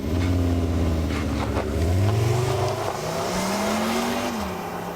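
A 2022 Skoda Kodiaq RS driven hard, its engine revving up through the gears with a gearshift dip and a rising, strained drone, steady and fairly loud with no voices.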